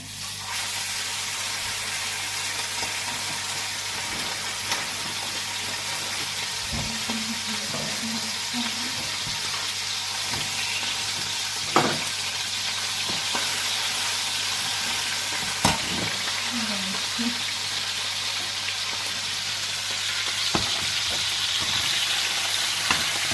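Minced meat fries in a pan for Kayseri yağlaması. A steady, fairly loud sizzle runs throughout, with occasional scraping stirs and a few sharper knocks of the utensil against the pan, close up and without talk.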